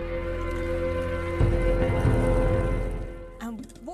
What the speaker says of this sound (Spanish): Esto serían las precipitaciones.